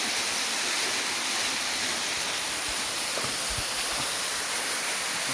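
A waterfall inside a resort pours continuously, a dense, steady rushing hiss heard from nearby, with faint low thumps beneath and no voices.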